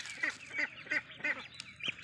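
Farm-raised ducklings, getting big now, call out in a run of five or six evenly spaced nasal quacks, close by and fairly soft, each call short and clipped, with no voices over them.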